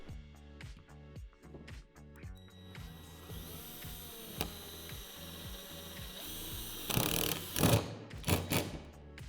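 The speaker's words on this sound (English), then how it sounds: "Secure the lifter arm to the channel with the self-tapping screw through this hole." A power drill drives a self-tapping screw into the metal channel of a basketball hoop lifter arm, giving a close, loud, stuttering whir with clicking ratchet-like pulses and bursts of grinding as the screw bites, no talk.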